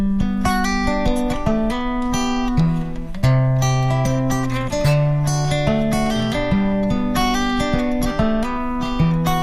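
Opening of a live performance of a song: sustained chords and a moving melody play continuously at a steady loud level, with no speaking voices over the music.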